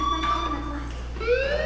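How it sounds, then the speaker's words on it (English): In the video game Life Is Strange, a fire alarm rings as a wavering electronic siren, brief and fairly loud, with the tone breaking off and then rising again over a constant hum. "do you hear that fire alarm?"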